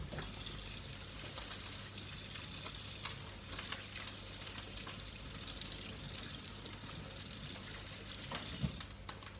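Constant hissing sizzle of bacon and eggs frying in a pan fills the clip, moderately loud, with small pops and clatters scattered throughout.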